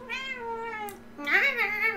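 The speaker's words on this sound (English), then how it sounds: "We've got an angry kitty who's mad that I took his spot" An angry house cat lets out two drawn-out, complaining meows close to the microphone, the second one louder and rising.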